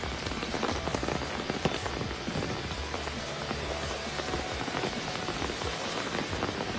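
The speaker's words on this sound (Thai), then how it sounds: "วันนี้ฝนตกจริง" Heavy rain falling outdoors on a forest garden plot, a dense, steady patter of drops hitting surfaces close by, continuous and even with no voices.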